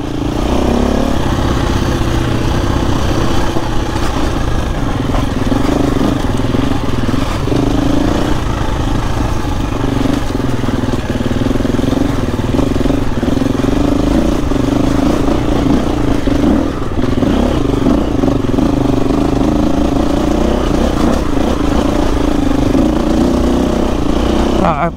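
A 2024 KTM dirt bike is ridden over rough, rocky terrain in Africa, its engine droning loudly and steadily throughout with rattling clatter mixed in.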